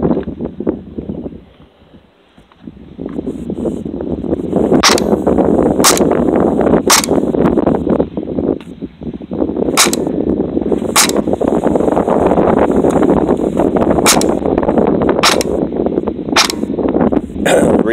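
A Krytac Trident SPR MKII airsoft rifle with a DSG gearbox fires BBs over a chronograph, giving a run of sharp, evenly spaced snapping shots against a steady whirring background, close and loud.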